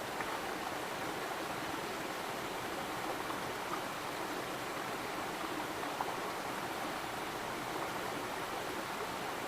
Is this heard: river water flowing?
yes